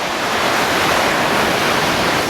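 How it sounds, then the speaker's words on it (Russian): Winter storm waves crash on the sea shore at Gelendzhik on the Black Sea, a loud, dense, unbroken roar of surf and spray filling the whole stretch, with no voices. "Слышно прям, как волна бьет. Море шумит прям."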